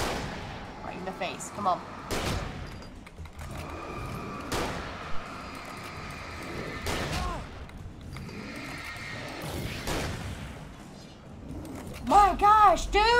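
Gunfire from the video game Alan Wake comes as repeated heavy booming shots spread over several seconds, with someone talking excitedly over the shooting.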